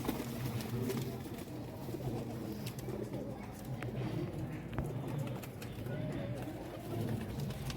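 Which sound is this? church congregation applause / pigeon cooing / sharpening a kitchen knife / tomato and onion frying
pigeon cooing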